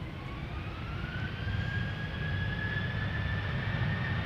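KLM Boeing 737-800 jet, registration PH-BXZ and 16 years old, taking off at Amsterdam Schiphol; a rising engine whine sits over a steady rumbling roar, moderately close and without talk.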